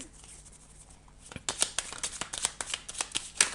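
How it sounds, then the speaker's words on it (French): Tarot cards being shuffled for a six-card spread: a quiet rustle, then a run of crisp, rhythmic riffling bursts, close and fairly loud, with no voices. "je vais faire un tirage en 6 cartes"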